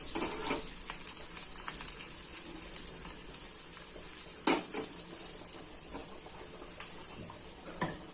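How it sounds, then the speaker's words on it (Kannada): A tempering of mustard seeds, onion and curry leaves browns in hot oil, making a steady, fairly quiet hiss with occasional louder pops and crackles and no voices. "ಸ್ವಲ್ಪ ಒಗ್ಗರಣೆ ಬ್ರೌನ್ ಆಗಲಿ."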